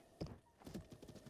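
A horse in Breath of the Wild trots with quick hoof clip-clops at close range, and a short whinny can be heard among the hoofbeats, with no talking over it.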